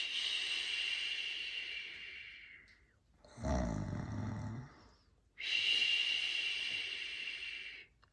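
A voice imitates a sleeping giant snoring: a long hissing breath, a deep rumbling snore in the middle, then another long airy hiss. All three are close, loud and alone.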